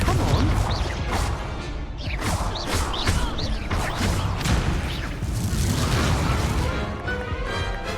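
Spell blasts crash and boom one after another in a Hogwarts wizarding video game duel, dense and loud throughout with whooshing bursts layered over rumbling impacts, with no pause between hits.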